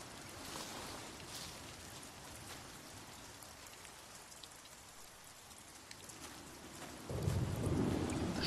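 Heavy rain and rolling thunder fill a thunderstorm in The Walking Dead video game, a dense constant downpour with a deep rumble swelling near the end.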